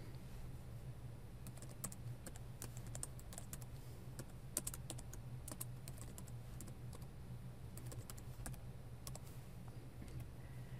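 Rapid, uneven typing on a computer keyboard while C++ code is entered, with a steady stream of soft key clicks over a low hum and no talking.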